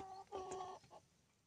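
A fighting rooster gives a short burst of clucks, a quick pair of throaty notes followed by a fainter trailing cluck, fairly quiet and alone.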